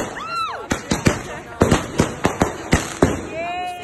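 New Year's Eve fireworks crack and bang in a rapid irregular series of sharp, loud bursts, with whistling rockets rising and falling and distant voices of people outdoors.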